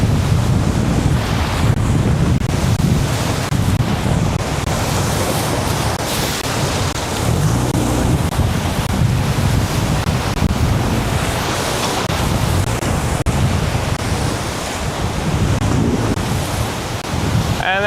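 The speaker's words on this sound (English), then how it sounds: "I'm getting airtime going over those waves." A safety boat charging through big whitewater river waves while chasing paddle rafts, with a continuous loud roar of rushing water, engine and heavy wind buffeting the microphone that lasts throughout.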